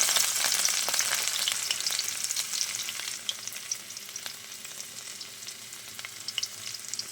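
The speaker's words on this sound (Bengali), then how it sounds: "এইবার ওই চিকেনের তেলে আমি প্রথমে দিয়ে দেবো রসুন কুচি" Chopped garlic fries in oil left from cooking chicken, giving a steady, close, bright sizzle with crackling pops throughout and no talking.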